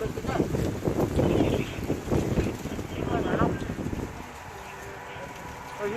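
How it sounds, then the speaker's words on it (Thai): Outdoors at a roadside papaya salad stall, blustery wind buffets the microphone with a rough, low rumble while a person talks over it, then the gusts ease to a softer steady hiss. "แต่เสียงลมด้วยเนาะ"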